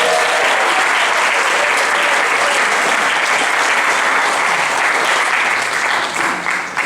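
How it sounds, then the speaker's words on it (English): A theatre audience at a comedy show applauds and cheers loudly and steadily throughout, a dense wall of clapping with no voices on top, easing slightly only at the very end. "can we please give a huge ba-ba-ba cheer and welcome to Pete Fitch."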